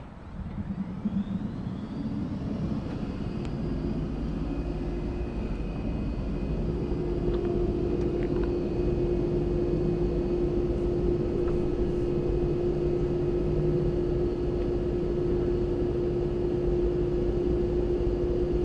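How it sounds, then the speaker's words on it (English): A turboshaft gas turbine jet engine runs continuously with a steady, loud roar and a sustained whining tone that holds level for the whole stretch. "It's a jet engine that's designed to turn an axle."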